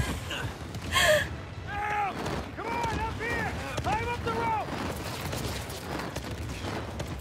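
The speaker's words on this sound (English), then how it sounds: "Gunfire." Gunfire in a video game firefight, Uncharted 4, comes as scattered distant shots amid a busy, noisy battle soundscape with tonal game effects and sounds like breathing or gasps.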